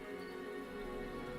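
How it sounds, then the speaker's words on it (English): Steady rainfall in a video game, a constant even wash of falling drops and pattering on surfaces with no break, carrying on alone without voices. "rain won't last much longer"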